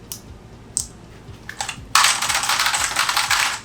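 Typing on a Razer Huntsman mechanical keyboard: a few sharp isolated clicks, then a dense loud burst of rapid, bright key clatter starting about halfway through, close to the microphone.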